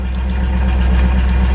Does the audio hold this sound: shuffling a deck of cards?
no